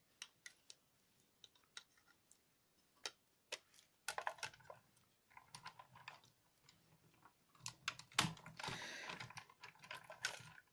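Die-cutting machine in normal mode feeding a die taped to card through its rollers, giving sparse mechanical clicks and ticks that grow into denser ratcheting and grinding toward the end, close and fairly quiet with no talk.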